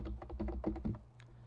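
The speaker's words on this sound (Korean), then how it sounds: "타이핑이 이게 빠르니까" Quick run of computer keyboard typing, a rapid burst of close, soft thudding keystrokes that stops abruptly, followed by a single faint click.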